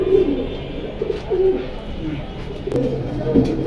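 Pigeons cooing softly in a loft, several low repeated coos close by over a background murmur.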